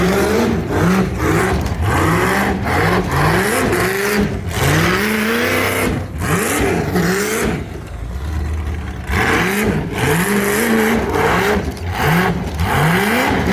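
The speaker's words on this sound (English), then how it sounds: "the car sounded unreal" A race car on a qualifying run revs hard and close, its engine note climbing and dropping through gear changes in repeated sweeps, loud and sustained with only brief easing.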